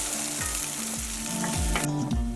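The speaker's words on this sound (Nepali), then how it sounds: "अब सुकेको खुर्सानी पनि राखेर सबै सामग्रीहरूलाई चलाइदिने।" Garlic, onion and dried red chili frying in hot oil for a Nepali taki greens saag while being stirred, a steady loud sizzle with repeated scraping strokes of the spoon, up close with no talking.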